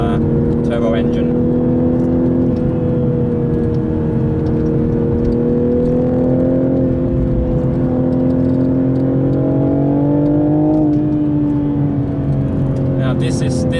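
A 2021 Toyota GR Supra GTS with a 3-litre turbo engine drives along, its steady engine drone rising and settling in pitch, with a voice talking over the top.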